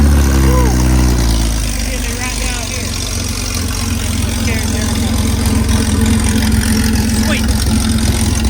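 Jeep Cherokee XJ engine cranks on a stand-alone wiring harness, then settles into a steady, close, rumbling run, with a brief spoken exclamation over it.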